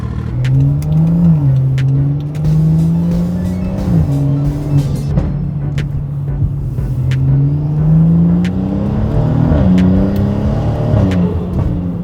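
A BMW engine with an ARM single mid-pipe exhaust revs up and down through several gears, its exhaust note rising then dropping with each shift, loud and close, no talking.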